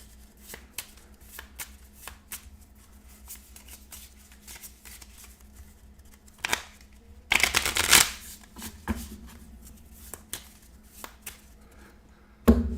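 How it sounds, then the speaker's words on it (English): Encounter cards for the Castle Ravenloft Dungeons & Dragons adventure board game are shuffled by hand in a short, crisp riffling burst, close and clear against a quiet room with faint tapping before and after. "I will shuffle the encounter cards just so you don't think there's any shenanigans going on here"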